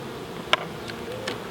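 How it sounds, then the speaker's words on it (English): Honey bees on a hive frame being filled with nectar, heard as faint, brief buzzing passes close by, over a quiet background hum. "Do you see the bees?"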